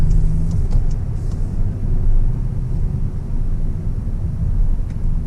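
A 2022 Volkswagen Arteon R-Line with a four-cylinder turbo engine and front-wheel drive pulls hard under acceleration, giving a steady loud engine rumble and road roar from inside the cabin with no talk.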